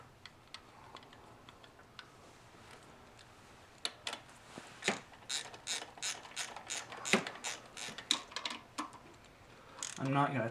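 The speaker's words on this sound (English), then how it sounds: "I can just kind of screw these in to start them." A ratchet drives throttle body gasket bolts on a Geo, giving bursts of quick clicking pawl ticks that grow busier and louder through the middle, close to the mic, with pauses between strokes.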